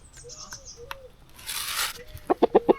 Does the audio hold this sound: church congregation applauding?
no